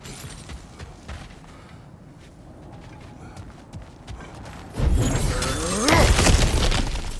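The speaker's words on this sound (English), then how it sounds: "back to smashing through things for fun and profit" Objects being smashed and broken apart in God of War Ragnarok, a loud burst of shattering and crashing debris that swells near the end after a quieter stretch of ambient movement and footsteps.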